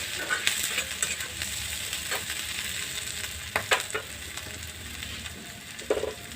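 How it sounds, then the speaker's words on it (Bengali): Fish pieces fry in oil for chilli fish, a steady close sizzle with occasional scraping and clinking as the pan is stirred. "এগুলোকে একসঙ্গে করে ভালো করে ভেজে নিতে হবে।"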